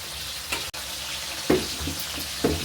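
Dried loitta fish sizzling as it fries in hot oil in a pan: a steady crackling hiss with a few soft bumps from stirring, close and moderately loud.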